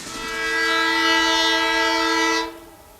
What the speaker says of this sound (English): Seattle-bound Empire Builder number 7 crosses Swan Boulevard Bridge in Wauwatosa.